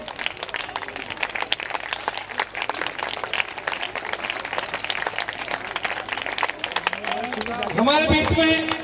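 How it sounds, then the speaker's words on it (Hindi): An audience claps through an annual function program, a dense, steady applause that runs without a break and swells louder near the end, with an announcer's voice talking over it. "तालियां बजती रहे आप लोगों की।"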